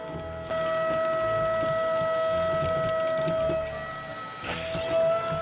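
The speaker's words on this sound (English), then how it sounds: "Make sure to get the vacuum as far down as you can." A vacuum cleaner runs steadily down inside a floor vent during a move-out clean, a continuous whining drone with a sustained tonal hum that shifts slightly toward the end.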